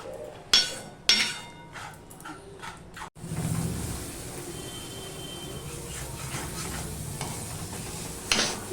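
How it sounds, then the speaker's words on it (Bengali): Spice masala stir-fried with a little water for a bele fish curry: a few sharp knocks at first, then a sudden loud burst of sizzling that settles into steady frying with scraping spoon strokes, close and with no voices. "আমি একটু জল দিয়ে দিলাম দিয়ে ভালো করে আমি মিশিয়ে নেব ভালো করে মিশিয়ে নিয়ে মশলাটাকেও আমি ভালো করে কষিয়ে নেব"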